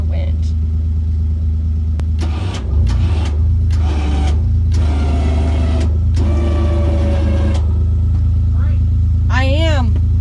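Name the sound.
winch pulling a scrap van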